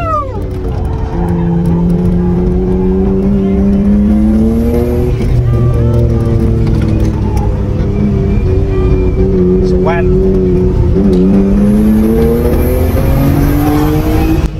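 A Mitsubishi Galant VR-4 drifts sideways through a large L-shaped corner on a track in third gear, its engine droning loud and steady close up as the pitch climbs and dips, with no voices heard.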